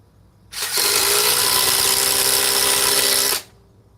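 A Ryobi power tool starts up and runs at a steady, loud whine for about three seconds, then cuts off abruptly, with near silence before and after.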